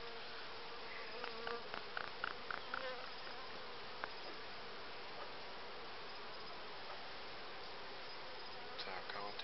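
Honeybees buzz around an apiary hive in May, a steady close hum with occasional sharper wing passes near the listener.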